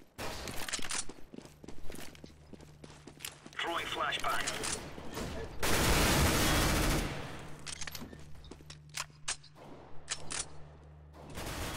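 Rapid bursts of gunfire in a Counter-Strike: Global Offensive competitive match on the Nuke map crackle alongside footsteps and other game effects, with a loud sustained blast in the middle.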